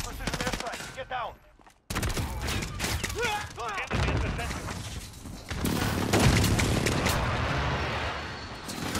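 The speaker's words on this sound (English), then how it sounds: "Enemy precision airstrike. Get down." Enemy precision airstrike explosions in the combat game Call of Duty Modern Warfare: a burst of booming blasts and gunfire, fading into rumbling, with shouted voices over parts of it.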